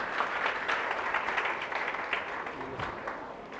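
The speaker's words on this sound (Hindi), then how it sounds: "चलिए सर लोगों को एक बार जोरदार ताली दिया जाए भाई" Audience applause, a fairly quiet, steady patter of many hands clapping together that thins slightly toward the end, with faint voices in the background.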